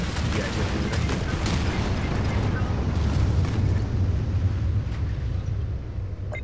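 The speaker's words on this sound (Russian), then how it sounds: "Произведен запуск ядерной ракеты." Nuclear missile launch in Anno 2205, a futuristic city-building game: a continuous loud, dense roar like a rocket blast that holds steady for about six seconds, with crackling bursts layered in the rumble.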